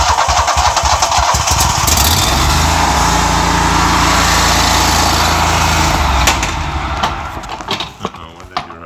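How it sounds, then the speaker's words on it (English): A Toro engine cranks with the choke on during a cold start, the starter churning loudly and the engine catching into a rough, rising roar that holds steady before fading into uneven sputtering, close by. "Crank her up. Choke on."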